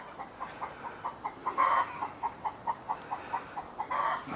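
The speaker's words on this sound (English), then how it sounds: "you might be able to hear my chickens" Hens cluck in a steady, repeated rhythm at moderate distance, with a slightly louder squawk partway through and a soft outdoor background.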